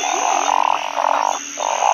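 Frogs croak in dense repeated calls along a rain-swollen stream at night, with a steady high insect or rain hiss behind them; the calls are close and continuous, pulsing in short bursts.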